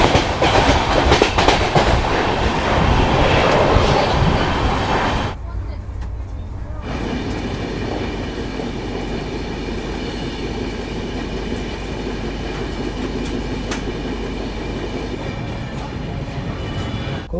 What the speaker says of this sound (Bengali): আর ট্রেন কিন্তু কন্টিনিউ 128, 129-এ টানছে